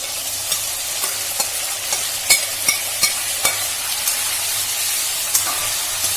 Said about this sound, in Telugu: నూనె వేడైన తర్వాత ఉడికించిన రొయ్యలను వేసుకోవాలి